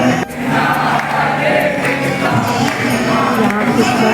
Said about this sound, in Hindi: यहाँ पर भक्तों की काफ़ी भीड़ है।